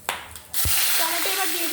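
Cumin seeds drop into hot oil in a pan for a crab curry: a brief rustle and clatter, then a sudden loud, steady sizzle that fills the rest of the moment.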